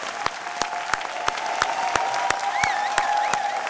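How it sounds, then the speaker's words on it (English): A crowd at a university convocation applauds steadily, a dense wash of clapping punctuated by regular, sharp rhythmic claps at a roughly even beat, fairly loud and sustained. "Let's give this woman of Tuskegee University another round of applause."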